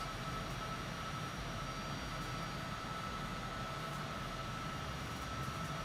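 A flight simulator airliner's engines drone steadily through a climb with flaps raised over big mountains between Lukla and Paro, a constant broadband roar with a faint high whine and no gaps.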